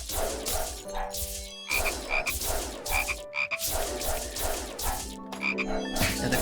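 Frogs croaking in a video game, a dense chorus of repeated throaty croaks in a steady pulsing rhythm, close and continuous with no talking.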